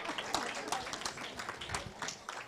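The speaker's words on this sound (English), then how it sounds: "A round of applause for our moderator extraordinaire." Audience applause at a primary school quiz fills the space, a busy wash of clapping with distinct sharp claps popping out, continuous throughout.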